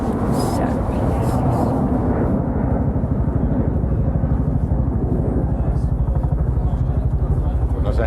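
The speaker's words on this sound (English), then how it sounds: "There's a helicopter." A helicopter's rotor thumps in a steady, fast beat with a heavy engine roar, loud and continuous throughout, with no pause.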